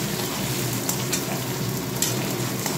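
Paneer cubes frying in a pan of hot oil, an even, continuous sizzle with a few sharp crackles and pops, close and alone.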